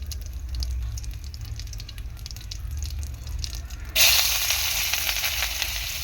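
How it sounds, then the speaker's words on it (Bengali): Cumin seeds sizzle in hot oil in a wok, a steady close hiss that suddenly grows louder and brighter partway through and then holds at that level, with no talking. "ফোড়নটাকে একটুখানি ফ্রাই করে নেব, তারপর আমি পেঁয়াজ দেবো এখানে"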